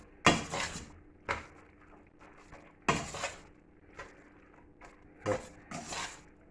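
Pork scratchings being stirred into pasta in a pan, with intermittent close scraping and clinking of a utensil against the pan in irregular bursts between quieter moments.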